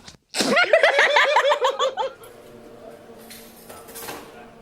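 A voice imitates the call of a blue-winged kookaburra in a rapid, rhythmic series of loud cackling, laughing notes for about two seconds, followed by quieter background sound.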